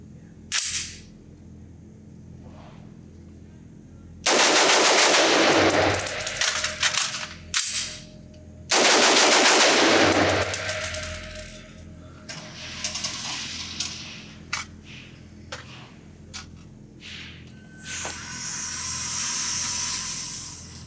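A B&T APC300 .300 Blackout pistol fires two loud, rapid bursts of shots at an outdoor range, separated by a quick magazine change, followed by scattered metallic clicks and handling noises.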